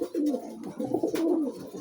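A teddy pair of high-flying pigeons cooing close by, two or three drawn-out rolling coos in quick succession with a brief sharp rustle partway through.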